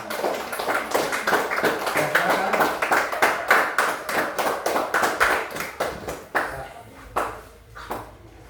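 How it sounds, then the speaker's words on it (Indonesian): Students in a classroom clap for a group in a steady rhythmic beat of many hands, close and fairly loud, which slows and thins toward the end as a voice speaks briefly. "tepuk tangan untuk kelompok 3"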